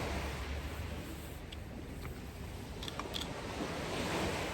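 A calm winter sea in late February washes steadily along the shore, a soft continuous surf hiss mixed with light wind rumble against the microphone.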